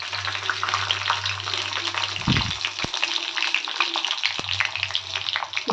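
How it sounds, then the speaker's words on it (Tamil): Garlic, cinnamon, cloves and fennel frying in hot oil give a steady, close sizzle with a low background hum, broken by a couple of brief knocks and stirring clatters. "தாளிக்கிறதுக்கு நம்ம இப்போ வந்து இது எண்ணெயில் போட்டுடலாம்"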